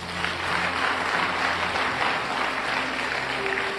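A church conference crowd in Abidjan claps steadily and loudly, a dense sustained wash of applause with cheering voices and a faint musical tone underneath.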